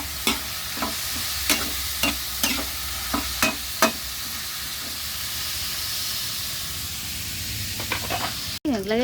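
Vegetables and pork sauté in a pan with a steady hissing sizzle, punctuated by sharp metallic scrapes from stirring, close and loud, ending with a brief clatter.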